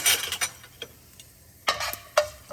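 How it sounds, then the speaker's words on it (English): Dal being stirred in a pan while making upma, heard as a few sharp scraping, clinking strokes of a spoon against the metal pan, loud at first and then in separate bursts with quiet gaps between them. "Give it a stir."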